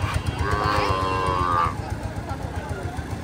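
A cow at a cattle market gives one long, loud moo that rises and fades, with people talking and market bustle around it.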